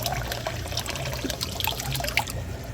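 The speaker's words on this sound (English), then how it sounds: "And then we have our refill valve right here. This is how we get more water in easily." Water flows in continuously through the refill valve of a tilapia pond, a steady close trickle and splash with small bubbling accents.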